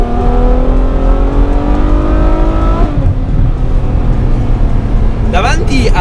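A Ferrari F12's 6.3-litre naturally aspirated V12 of 740 hp revs hard on a test drive, its loud, close engine note climbing steadily, dropping sharply at a gearshift, then pulling again under a brief sharp burst.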